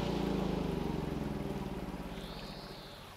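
Running water in the Gold Rush game, a broad rushing wash with a low pulsing rumble that fades gradually, and a faint rising tone near the end.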